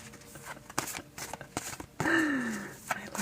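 A deck of tarot cards is shuffled in soft, papery bursts with brief pauses between them, and a person talks over the later part.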